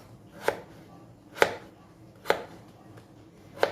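Potatoes are chopped into cubes on a board with four distinct knife thuds spaced about a second apart. They sound close and crisp over a quiet background, with no speech.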